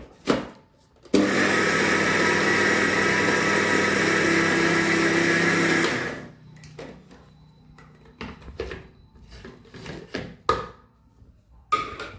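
A mixer grinder whirs loudly for about five seconds while grinding prawn chutney, then cuts off, followed by quieter scattered knocks and clatter of the jar.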